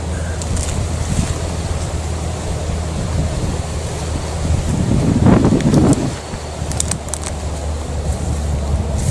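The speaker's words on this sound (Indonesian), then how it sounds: "Sejak kami menemukan lokasi Niken, angin begitu kencang selalu berhembus." Strong wind roars steadily against the microphone, with surf-like rushing and a louder gust swelling in the middle.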